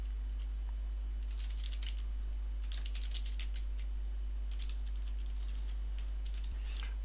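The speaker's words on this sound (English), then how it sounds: "I can type my notes" Notes being typed on a computer keyboard in a CRM program: faint, irregular bursts of soft key clicks over a steady low electrical hum.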